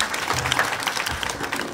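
Steady applause from a group at a school gathering honoring pupils' results, dense clapping throughout with a faint voice or two mixed in.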